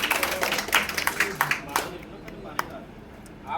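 An audience claps to welcome a guest at a gathering, a dense burst of applause that fades after about two seconds, leaving a few scattered claps.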